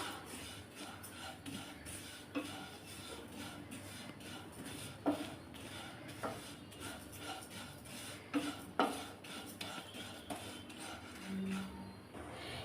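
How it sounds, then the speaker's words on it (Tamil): Flattened rice (aval) is stirred and dry-roasted in a pan, giving a steady scraping rustle with scattered light clinks of a spoon against the metal, moderately faint and without any talk. "அதுக்குள்ளே நம்ம அவளை வறுத்து எடுத்துக்கலாம்"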